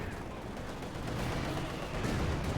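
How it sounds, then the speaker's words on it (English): Mortar fire in the Company of Heroes 2 strategy game arrives as a dense, rumbling barrage of muffled blasts that swells slightly louder toward the end, heard without speech. "Mortar fire there."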